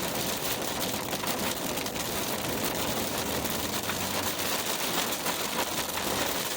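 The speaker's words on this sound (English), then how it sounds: "and rain has started" Rain falls steadily on a moving car during a highway drive near Macon, a dense, even patter over a constant wash of road noise with no talking.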